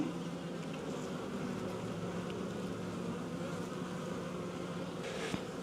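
Honeybees swarm around an open hive in a farm yard during a queen check, a dense continuous buzzing hum that stays fairly faint and steady, with a brief louder pass near the end.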